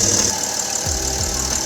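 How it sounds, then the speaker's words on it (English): A BMW E90 330 with the M57 diesel engine running at idle, a steady close mechanical drone with a faint diesel knock. "that's the engine running"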